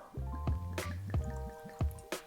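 Green Spot Quails Gate Irish whiskey poured into a glass, a close liquid glugging and dripping with a few soft clinks of glass, heard alone.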